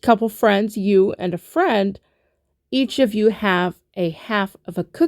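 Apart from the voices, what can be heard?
No distinct noise like a dog, phone or traffic.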